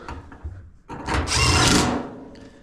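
A power driver runs screws into a Maytag Maxima XL dryer during reassembly, with a short whirring burst after some handling clatter, close and moderately loud.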